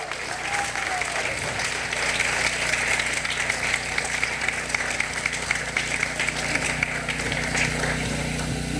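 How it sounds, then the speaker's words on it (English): Wedding guests give a round of applause at a reception, steady dense clapping throughout with crowd noise and some background chatter. "Another nice round of applause."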